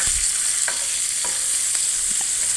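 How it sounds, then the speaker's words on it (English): Slices of smoked chorizo sausage frying in a pan as their fat renders, a loud, steady sizzle throughout, broken by a few close scrapes and clacks of a utensil stirring them. "I'm going to render some of the fat out of the sausage. I'm going to go ahead and stir them up a bit."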